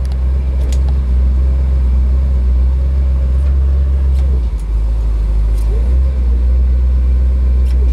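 A 1963 Chevrolet Impala with a 409 V8 rumbles loud and close from inside the cabin while driving, a deep steady engine drone with slight swells in revs and a few faint clicks.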